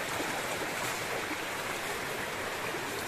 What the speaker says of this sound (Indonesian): Ini suara gemericik air yang sangat seger.